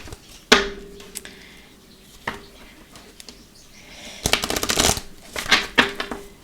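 Oracle cards from a Bellin Angel Oracle Love deck are shuffled close by, giving sharp papery slaps followed by a longer rapid riffling flutter near the end.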